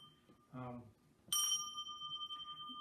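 A cast silicon bronze bell is struck once, giving a bright clang followed by a sustained ringing tone that slowly fades; a voice talks briefly just before the strike.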